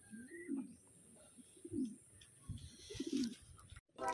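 Taiwan pigeons offered as auction birds coo in a loft, three low, throaty rolling coos repeating at an even pace, fairly close and clear over faint background noise.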